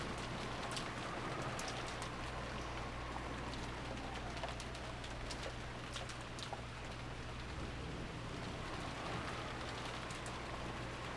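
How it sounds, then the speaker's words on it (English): Steady rainfall in the visual novel game Umineko When They Cry, a dense continuous patter of drops on surfaces with faint bird cooing mixed in, constant in level throughout. "disappeared beneath the sound of the rain"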